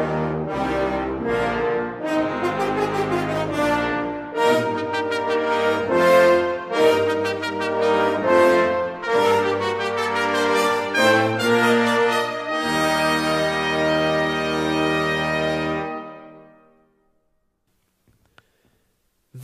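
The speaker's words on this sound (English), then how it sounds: "Together, the brass section sounds like this." An orchestra brass section with trumpets and horns playing together, loud sustained chords and phrases for about sixteen seconds, then fading to silence.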